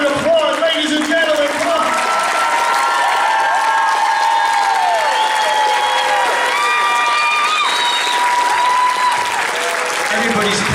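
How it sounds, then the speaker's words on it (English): Loud applause and cheering from the crowd at a Monkees fan convention as performers take the stage, sustained clapping with whoops and shouted voices layered on top, close and continuous. "Put your cameras down and applaud, ladies and gentlemen."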